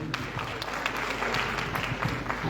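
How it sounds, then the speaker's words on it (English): Audience applause at a content creator workshop in Lesotho: a sustained round of many hands clapping at steady volume, with a low background hum and faint crowd murmur underneath. "A round of applause."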